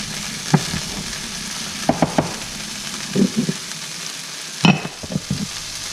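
Steaks searing in a pan with butter, onion and garlic, a continuous loud sizzle with a few short bursts of spatter and scraping as the meat is turned, no talking.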